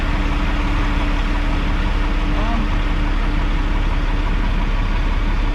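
An airport sweeper truck's engine runs steadily at idle throughout, a continuous broadband rumble with a low hum, fairly near and constant in level, with no other sounds standing out.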